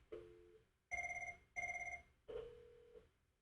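A telephone rings in repeated electronic bursts on a call routed through Cisco Unified Communications Manager, four short trilling rings with pauses between, fairly faint and without any voices.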